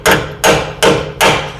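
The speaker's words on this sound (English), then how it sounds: "the adjustable hammer, and just give it a tweak" A hammer strikes the steel frame of a G-body car four times in an even rhythm, each blow loud, close and metallic, ringing briefly before the next hit.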